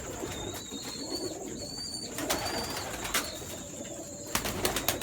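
Pigeons kept for breeding coo softly in a loft while bursts of wing flapping break through, close and fairly quiet over steady background chatter and rustle.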